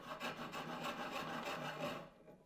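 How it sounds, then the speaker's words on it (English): A rasp shapes a walnut banjo neck, fast rhythmic scraping strokes of metal teeth on hardwood, close and quiet, then stopping near the end. "I ended up just using the rasp"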